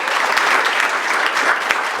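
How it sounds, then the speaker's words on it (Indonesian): A studio audience at an Indonesian variety talk show gives loud, sustained applause to greet the first guest, a weightlifting athlete. The even clapping fills the whole stretch without letting up. "beri tepuk tangan yang meriah untuk tamu kita yang pertama"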